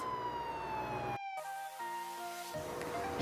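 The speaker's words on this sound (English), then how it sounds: "ambulance." An ambulance siren sweeps down in pitch, cuts out abruptly, then returns as a steady stepped two-tone wail, loud and close with no talking.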